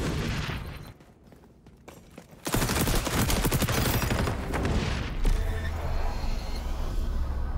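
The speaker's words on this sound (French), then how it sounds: "la grenade qui va faire mal" Gunfire and a grenade blast in a free-to-play first-person shooter: a brief lull, then a loud, sustained barrage of rapid shots and booms that runs to the end.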